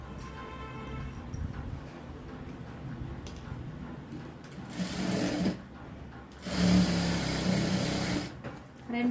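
A sewing machine stitches a blouse sleeve in two loud bursts of running, the second longer, with quieter handling and low background noise between them.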